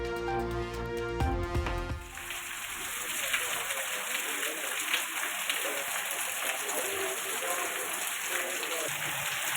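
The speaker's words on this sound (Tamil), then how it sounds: "உதகை மற்றும் அதன் சுற்றுவட்டார பகுதிகளில் சுமார் 1 மணி நேரத்திற்கும் மேலாக பெய்த கனமழை." After a brief musical intro, heavy rain pours over Ooty and the surrounding area in a dense, steady hiss of falling water that continues to the end.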